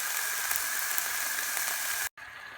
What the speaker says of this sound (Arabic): حطيت هونيا شوية زيت، يعني ملعقة أكل زيت معها شوية صلصة، نخليه يتقلى شوية